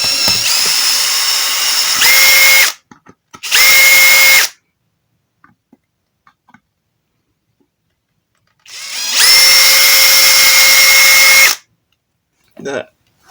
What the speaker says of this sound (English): I'm using an 8mm drill